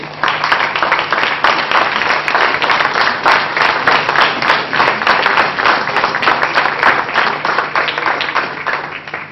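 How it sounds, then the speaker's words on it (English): Workshop audience applause for a speaker, a loud continuous rattle of many hands clapping at a steady rate for the full stretch, close and dense with no talk over it. "Applause for Dr."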